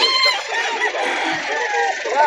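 Chickens and roosters of a breeder's stock in Calauan, Laguna cluck and call in a busy, overlapping chorus close by, loud and continuous throughout.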